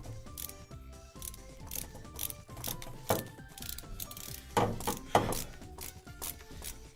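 A bolt is driven into the wooden base of an arcade cabinet, with intermittent ratcheting clicks and mechanical scrapes, a few louder knocks near the end, close but fairly quiet.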